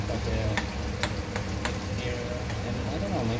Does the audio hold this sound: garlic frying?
yes